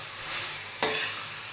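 Chicken fry sizzling in a pan, with a brief close stir burst near the middle that scrapes and hisses louder before settling back into a steady frying hiss.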